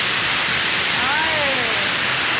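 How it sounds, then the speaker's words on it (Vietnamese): Heavy rain pours down in Saigon as a dense, continuous hiss filling the whole moment, with a brief faint voice-like sound rising midway. "Sài Gòn đang mưa lớn lắm mọi người."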